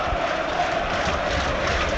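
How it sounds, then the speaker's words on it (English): A football crowd roars steadily at a Burnley v Bournemouth match, a dense, distant wash of voices and cheering that holds unbroken throughout. "Here comes the crowd."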